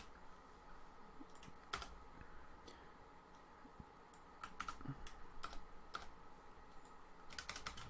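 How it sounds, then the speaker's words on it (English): A mechanical keyboard clacks in irregular bursts of keystrokes, quiet and fairly close, with sparse clicks between faster runs of typing and no talking. "It's a mechanical keyboard."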